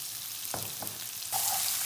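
Bell pepper hitting hot oil and garlic in a pan for vegetable pasta, a sudden loud sizzle that swells and holds steady after faint frying and stirring sounds.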